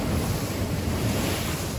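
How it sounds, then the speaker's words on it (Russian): Big storm waves roll and break in a constant thundering wash at night on the Yalta embankment, with strong gusting wind rumbling across the microphone throughout. "идут большие волны"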